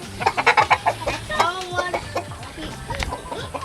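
Several chickens cluck close by on a homestead in quick, irregular bursts, with a few louder squawks mixed in.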